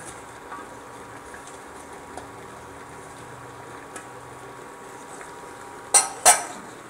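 Green chicken curry with long and pea eggplant is stirred in a pot, a quiet simmering bed with soft scrapes, ending in two sharp metallic clinks of a utensil against the pot.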